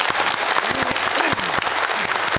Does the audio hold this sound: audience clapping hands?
yes